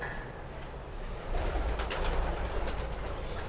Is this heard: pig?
no